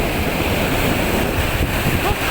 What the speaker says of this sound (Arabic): وطبعا زي ما انتم شايفين يعني هو البحر هو بيتكلم عن نفسه، شايفين عاملين ازاي والموجة عاملة ازاي